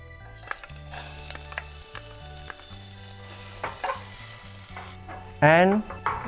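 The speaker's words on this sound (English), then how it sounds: "First, we saute the garlic." Garlic sautés in a pan with a constant sizzle and scattered stirring clatter, while a melodic instrumental tune plays over it and a bright chime rings out near the end.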